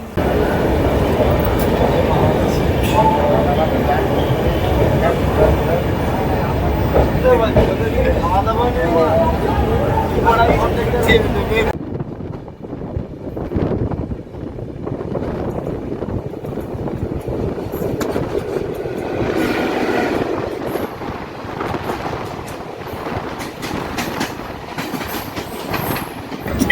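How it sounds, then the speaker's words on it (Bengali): The 18409 Shri Jagannath Express runs on the Kolkata to Puri line with a continuous rumble and clickety-clack, loud at first, then dropping to a quieter, sparser rattle partway through. "আর 5 মিনিট পর আমাদের ট্রেন এখান থেকে ছেড়ে দিয়েছে।"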